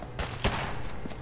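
Gunfire in the video game Fallout 4, a few sharp close shots in quick succession over a busy game soundscape.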